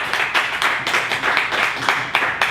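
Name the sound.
audience clapping after book reading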